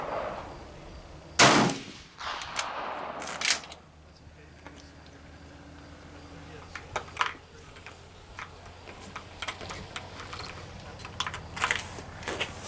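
A 1903A4 rifle loaded with 57 grains of Reloader 22 fires a single loud shot at an outdoor range. Several seconds of clattering handling noises and small metallic clicks follow.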